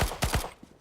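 Three rapid, loud gunshots from Counter-Strike: Global Offensive crack in quick succession, followed by a fading tail and quieter game ambience.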